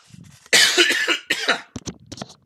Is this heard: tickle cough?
yes